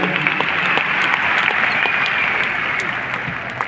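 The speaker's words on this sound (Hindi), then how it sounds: "एक बार दिल से तालियां बजा देंगे" An anniversary-event crowd, largely mothers and sisters in the audience, breaks into loud, dense applause that holds steady and close throughout, with no speech over it.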